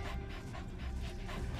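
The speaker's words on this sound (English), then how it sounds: "another option is D-Dog, which is great for tracking and scouting" Rapid, rhythmic panting from D-Dog, the companion dog in Metal Gear Solid V: The Phantom Pain, shown in an E3 2015 live demo; steady quick breaths sound close and continuous with no talk over them.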